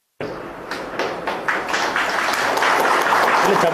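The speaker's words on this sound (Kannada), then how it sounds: "ಚಪ್ಪಾಳೆ ಬೇಡ" An audience at a public gathering in Mandya breaks into dense, sustained applause that starts abruptly and swells louder over a few seconds, with a busy crowd texture throughout.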